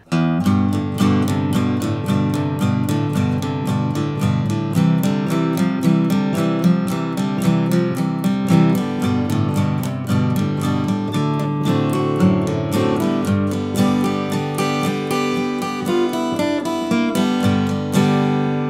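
Dense, steady acoustic guitar music with a repeating low bass line and riff, plucked notes driving a constant rhythm under layered harmony for the whole stretch.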